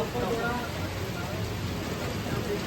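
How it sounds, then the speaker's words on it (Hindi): Heavy rain pours steadily near a flooded riverside temple area in hill country. The downpour is a dense, continuous hiss, with a voice speaking faintly underneath. "अब बारिश पड़ रही है"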